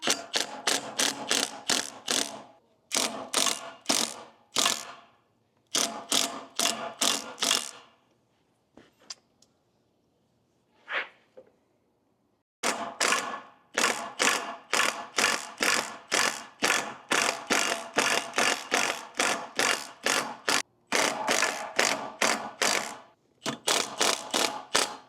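A socket ratchet turns a bolt being fitted with a 3-jaw puller on tractor attachment equipment, giving rapid close clicking strokes in bursts separated by brief pauses and a quiet stretch.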